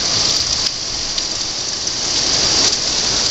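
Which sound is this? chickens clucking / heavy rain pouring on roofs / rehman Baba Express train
heavy rain pouring on roofs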